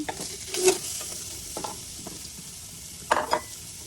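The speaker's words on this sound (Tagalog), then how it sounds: "Ilagay natin yung ating pork belly. Labasin natin yung kanyang mga mantika." Pork belly frying in a pan as its fat renders, giving a steady close sizzle with a few louder stirring scrapes and spatters, no talking.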